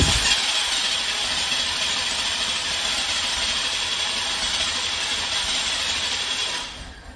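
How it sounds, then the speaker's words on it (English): The starter of a fuel-injected 1986 Oldsmobile 98 Regency Brougham cranks the engine, which has not run since a fuel filter change. A loud, close, continuous churning whir lasts several seconds and then trails off. "So I'll take one more crank, or maybe two."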